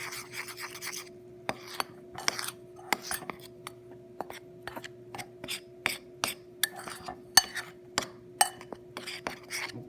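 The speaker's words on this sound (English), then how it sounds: "Let's mix it a little bit more." Chocolate chip cookie dough scraped and stirred in a bowl, a steady series of soft rasping scrapes with occasional utensil clinks against the bowl, close and fairly quiet.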